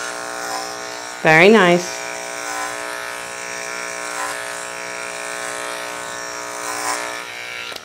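A KM10 dog clipper fitted with a 10 blade shaves a Goldendoodle's thick coat, giving a steady, close electric buzz that runs unbroken, with a brief spoken remark near the start.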